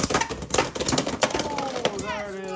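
Beyblade Burst spinning tops battling in a stadium, Rhino clashing with Shark Edge until it bursts, with rapid rattling metallic clacks and scrapes that fade into a ringing whir, while a voice talks over them.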